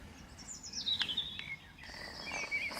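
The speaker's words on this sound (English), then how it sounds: "Birds happy enough, they're feeding away." Small birds chirp and tweet in a quiet spring morning garden as they feed, bright high calls coming in quick repeated bursts at moderate distance, with no one talking.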